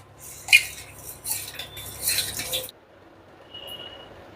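Metal utensils scrape and clink against a pot of gol gappa water in short, irregular bursts, followed by a quiet pause and a faint ringing tone.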